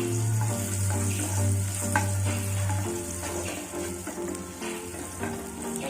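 Whole spices such as bay leaf, cinnamon and cloves fry in hot oil in a pan, making a steady, close sizzle that runs throughout with a low hum underneath.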